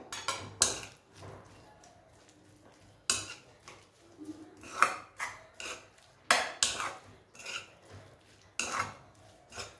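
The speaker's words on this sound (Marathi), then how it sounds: "आता याला आपण मिक्स करून घेऊया" Eggplant bharta being mixed with spices in a dish, with repeated scraping and clinking of a utensil against the dish in irregular bursts, fairly close and without talk.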